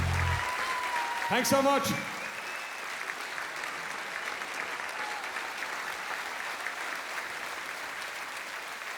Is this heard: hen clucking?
no